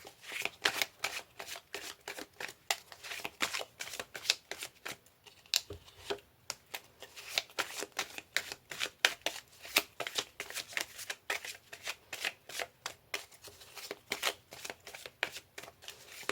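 Tarot cards are shuffled close up in a quick, continuous run of crisp flicks and riffles, each burst a soft papery slap, with no voices over the sound.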